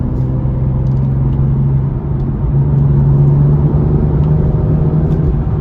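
A BMW M2 cruising on an open road, its engine a low steady hum and rumble with a faint whine and tyre roar inside the cabin, no talking.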